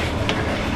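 A sleeper train in Vietnam rolls along the tracks. Its steady rumble and rattle come from inside the carriage, with a faint click in a brief, continuous stretch.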